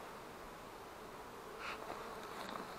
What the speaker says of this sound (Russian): здесь столько пчел.